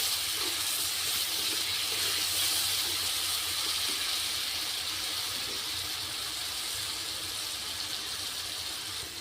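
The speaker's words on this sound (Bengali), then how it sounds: "টমাটোটা একটু ভালো করে ভাজা ভাজা করে নেব।" Grated tomato with salt frying in a pan, a steady loud hiss and sizzle that continues without a break throughout.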